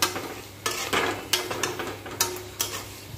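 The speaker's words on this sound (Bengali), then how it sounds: "এবার এটাকে কিছুক্ষণ এভাবে কষতে হবে" Masala and sauce being stir-fried in a pan, a spatula scraping and knocking against the metal in a steady rhythm of sharp strokes over a soft, continuous sizzle, close by with no talking.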